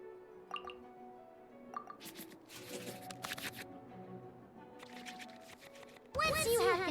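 Cards from a hand in the Genshin Impact card game shuffle back into the draw pile, with soft riffling bursts and faint chimes over quiet game music, ending in a louder, brighter swell.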